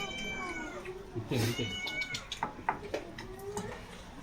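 A cat meows loudly and close several times, with drawn-out, wavering cries spread over a few seconds. People talk nearby between and over the calls.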